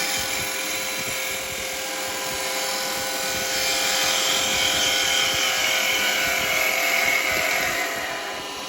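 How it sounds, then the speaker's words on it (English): A wood lathe spins a yo-yo blank while a 1/2 inch spindle gouge cuts it, making a steady high whine with continuous scraping that swells slightly, close and alone. "Just using my 1/2 inch spindle gouge."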